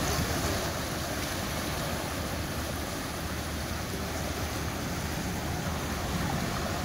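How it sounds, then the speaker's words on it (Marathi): Sea waves breaking on the shore in Mumbai make a continuous broad wash of surf, loud and steady with no distinct pauses or voices. "आणि हा लाटा पहा."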